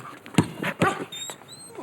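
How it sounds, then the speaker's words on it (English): A pet dog whimpers and yips in short, soft bursts close by, with brief high whines over a quiet indoor background. "He's my dog, aren't you, Bev?"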